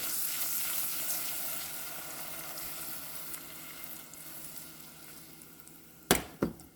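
Food sizzling steadily in a hot pan during the cooking of Dominican-style pink beans (habichuela rosada), a continuous fizzing hiss that fades slightly before a couple of sharp clatters near the end; no voices.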